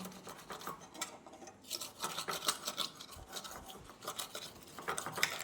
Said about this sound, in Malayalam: അതുപോലെ തന്നെ ഇതിൻ്റെ പിടിയിലും കൂടി നന്നായിട്ട് ഇങ്ങനെ ഒന്ന് ഉരച്ചു കൊടുക്കണം